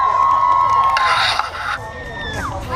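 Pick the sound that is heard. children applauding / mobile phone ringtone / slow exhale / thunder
children applauding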